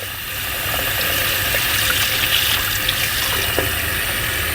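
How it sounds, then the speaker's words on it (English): Tap water runs steadily from a faucet into a sink while dentures are rinsed clean of denture paste, a continuous close hiss with faint clinks and no talking. "Gonna rinse my dentures, making sure I remove all denture paste."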